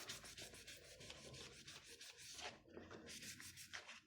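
An eraser rubs out handwritten figures on paper during a savings envelope count, a steady scratchy back-and-forth scrubbing that runs almost continuously with one brief pause, close and quiet.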